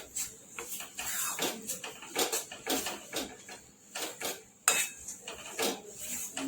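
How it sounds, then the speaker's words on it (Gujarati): A spice mix with ground moong dal for kachori filling is roasted on low heat in a pan, heard as a close, rhythmic series of spatula scrapes and taps against metal, one sharper clink midway. "મગની દાળ વાળો આ રીતે આપણે ધીમા તાપે એને શેકી દેવાનો છે મસાલાને"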